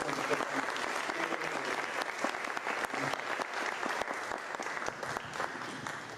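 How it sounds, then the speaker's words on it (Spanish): Loud, sustained applause from a lecture audience in a library hall, dense and continuous with no talking over it. "Por favor, un fuerte aplauso."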